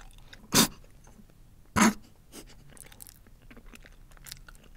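Close chewing of Vegemite eaten with banana, two sharp louder bites early on followed by soft, faint mouth sounds in a quiet room.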